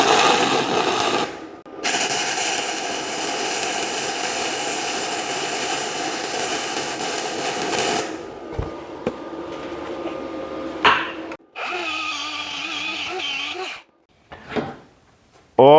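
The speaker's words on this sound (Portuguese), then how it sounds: "vamos fazer uma solda nessas duas chapas para a gente ver como ela se comporta" Gasless MIG welder running a bead across two steel sheets on a Euro 150 machine: a steady loud crackling buzz for about eight seconds, then shorter sputtering bursts with pauses.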